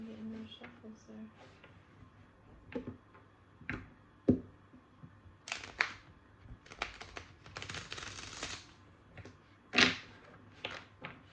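A deck of tarot cards is shuffled and handled in scattered soft ticks and brief riffling flurries, close but quiet, with occasional louder taps between pauses.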